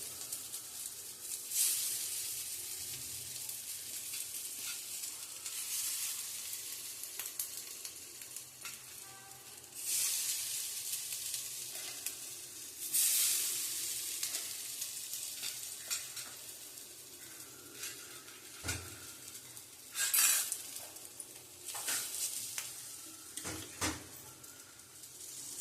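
Kothmir vadi, homemade coriander fritters, sizzle and hiss steadily in hot oil, with occasional louder crackling bursts and stirring scrapes over the continuous frying noise. No one speaks.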